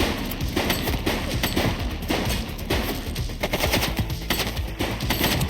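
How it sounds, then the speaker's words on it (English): Sustained gunfire in the video game The Precinct, rapid overlapping shots and bursts that run continuously and loudly without pause, dense and close, with no speech. "He's shooting!"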